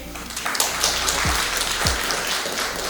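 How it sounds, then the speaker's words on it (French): Applause at an official launch ceremony for a vice-secretary being introduced, a short burst of rough, rattling clapping from a gathered audience with a few heavy low thumps, recorded close and loud. "Applaudissez-la s'il vous plaît."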